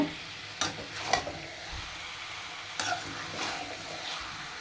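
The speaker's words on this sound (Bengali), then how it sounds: "পুরো মাংসটাই আমি এখন মশলাটার সঙ্গে ভালো করে মিশিয়ে নেব" Bengali-style chicken pieces being stirred with spices in a pan, a soft continuous sizzle with a few distinct spatula scrapes and knocks; no talking.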